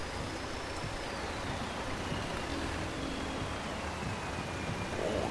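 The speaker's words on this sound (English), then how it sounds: "I know it's raining, but it's fine." Steady rain falls in a Farming Simulator 22 farm scene, a continuous dense hiss that holds even and close throughout, with a faint tone gliding slowly down in the background and no talking.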